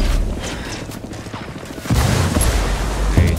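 Gunfire and a frag grenade blast in the video game Ghost War: rapid, crackling shots under a low rumble, then a louder, heavier burst that builds near the end.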